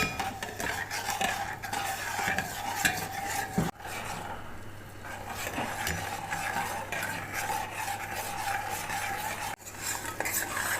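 A metal spoon stirs steadily in a pan as sugar melts for suji halwa, giving continuous close scraping and clinking with faint sizzling and one or two brief pauses.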